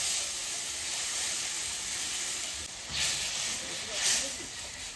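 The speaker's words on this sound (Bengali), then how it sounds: "এবার আমি লক্ষ্মীর ডাল দিয়ে দেবো, আমার ঢেকে রাখা লক্ষ্মীর ডাল।" Lakshmi dal lentils tipped into hot oil with turmeric give a steady broad hiss and sizzle, swelling in two brief surges near the end, close by and fairly loud.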